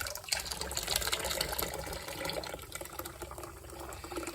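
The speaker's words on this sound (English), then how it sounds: "you basically keep adding water and stirring. Let the water go down." Water poured over acorn flour in a t-shirt, draining through the cloth to leach out tannins, gives a steady close trickle and splash that runs continuously without pause.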